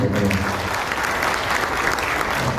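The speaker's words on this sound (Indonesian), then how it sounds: "Tepuk tangan." Sustained applause from an audience at a union congress, steady dense clapping that fills the hall from start to finish with no gaps.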